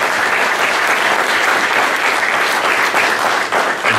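Loud, dense applause from a crowd saluting veterans at a Memorial Day gathering, sustained clapping filling the whole stretch close up.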